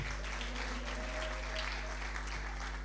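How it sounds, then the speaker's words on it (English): Audience clapping for organizations introduced by name at an anniversary celebration event, a steady wash of applause from a crowd throughout, fairly distant and even without strong peaks. "you at least clap for them"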